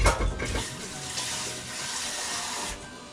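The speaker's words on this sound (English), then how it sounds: "Yes, I wash my rice." Rice being rinsed under a running kitchen tap, about four cups in a pot; water gushes steadily with splashing and sloshing as grains are stirred, close and fairly loud, no talk.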